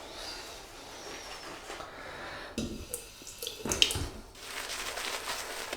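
Water from a tap runs and trickles while being added to a bowl of Phoenix & Beau Albion shaving soap, a soft close splashing with a few louder spurts partway through.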